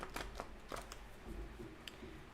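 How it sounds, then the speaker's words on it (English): Tarot cards shuffled by hand in a quiet indoor setting, giving soft repeated riffling and slapping bursts at an uneven rhythm, close and fairly faint. "Okay, so that was a horrible shuffle. Let's get a few shuffles."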